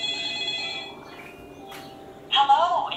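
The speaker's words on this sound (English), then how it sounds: "I hear a phone." A phone rings in a Samsung Gear VR game, a repeated electronic trill that fades partway through and then returns louder near the end, with a person talking nearby.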